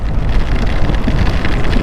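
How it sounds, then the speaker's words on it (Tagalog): Dense, loud rain roars steadily during a festival in Sebaste, a thick wash of noise with wind buffeting the microphone and no voices. "Lakas ng ulan mga idol,"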